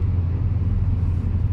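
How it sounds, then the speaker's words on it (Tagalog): Steady low engine rumble and road noise inside a moving car on a busy road, heard from the back seat, continuous and fairly loud with no talking. "Daming sasakyan."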